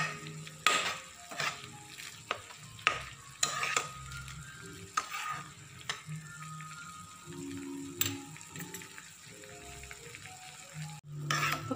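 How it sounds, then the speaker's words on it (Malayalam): Sugar syrup cooking in a pan for homemade natural tutti frutti is stirred steadily, with a soft bubbling sizzle and repeated scrapes and clinks of the spoon against the pan, close and moderately quiet, with no talking. "നല്ലപോലെ ഒന്ന് ഇളക്കി കൊടുത്ത്"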